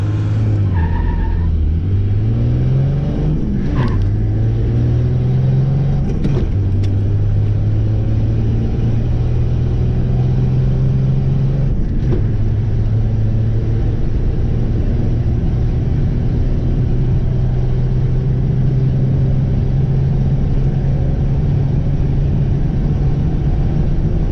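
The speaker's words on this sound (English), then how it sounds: "Okay, try for second gear." Car engine pulling in second gear during a drag run, a loud steady rising drone with a couple of brief shifts in pitch and no talk.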